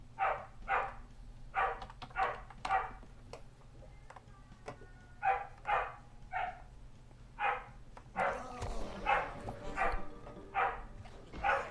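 A dog in a home barks repeatedly while people gather in the kitchen, with sharp, evenly spaced barks close by and a short flurry of quicker barks near the end.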